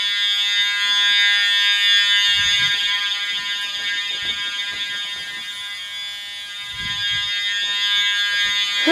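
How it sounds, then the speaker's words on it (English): A loud, continuous electronic fire alarm blares without a break, with faint shuffling and movement underneath. "Why is the alarm going off?"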